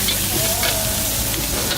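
Food stir-frying in a pan at a street food stall making fried rice kebuli, a loud dense sizzle with a faint scrape or two in a noisy setting.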